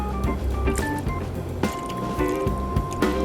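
Rendered beef tallow pours and strains through cheesecloth into a pan, giving continuous wet squishing and dripping with a few sharper liquid splats.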